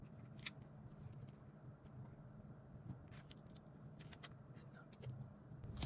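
Scissors snip through a paper pattern for a katori blouse in a series of quick, faint, crisp cuts over a low background hum.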